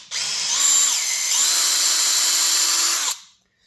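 A power drill whines steadily for about three seconds as it bores through a rubber RV Snappad into a wood block beneath, its pitch dipping briefly under load before spinning down.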